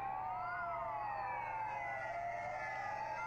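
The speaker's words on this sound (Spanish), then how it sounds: "El sonido de las sirenas" Wailing police sirens rise and fall continuously, somewhat distant, with several tones overlapping and steady background noise beneath.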